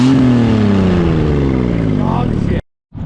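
A loud engine with a bad exhaust manifold drones and slowly winds down with a rough, raspy, leaky exhaust note, then cuts out briefly before sound resumes.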